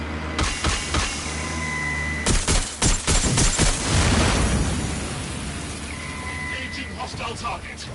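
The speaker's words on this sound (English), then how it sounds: "We have gunfire!" Bursts of video game gunfire crack out in a police tactical shooter, with sharp volleys early and a dense salvo in the middle over a constant background hum, while a person talks over the shots.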